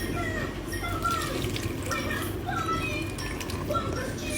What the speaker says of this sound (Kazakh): Потом қазір су құям.